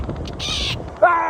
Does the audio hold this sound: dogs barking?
no